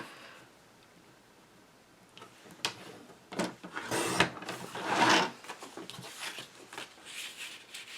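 Scissors trimming the edge of a paper tag pocket, quiet at first, then a run of crisp snipping and rustling paper cuts building through the middle and trailing off, close and with no talking.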